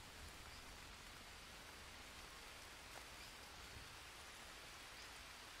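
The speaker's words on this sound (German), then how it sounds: "Es fängt an zu regnen." Steady rain falling in the jungle survival game Green Hell, a dense, even hiss of drops with no breaks and no voices.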